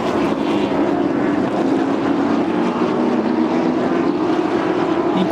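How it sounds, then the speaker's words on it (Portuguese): A Stock Car Pro Series race car at the Buenos Aires round accelerates hard, a loud, steady engine roar holding throughout with no speech over it. "Enquanto a gente vai acompanhando aí o Matias Rossi acelerando"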